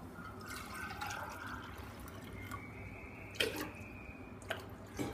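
Water runs steadily into a pot of rice, a faint continuous trickle with a few light splashes and knocks, close by.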